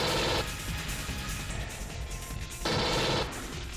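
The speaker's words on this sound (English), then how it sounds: "Pulse rifle clip." Rapid automatic pulse rifle fire from the Alien Trilogy shooter game, a loud sustained burst that dips briefly and then surges again near the end, with no talking.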